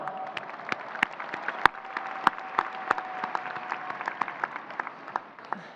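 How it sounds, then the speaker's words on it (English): Commencement crowd applauding volunteers, a broad sustained patter of clapping with a few sharp close claps standing out and a thin tone running beneath. "Let's all give them a big round of applause."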